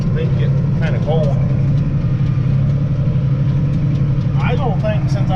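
Steady low diesel drone of a 986 tractor heard from inside the cab on a baling day in the field, a continuous loud rumble with faint voices or radio chatter over it.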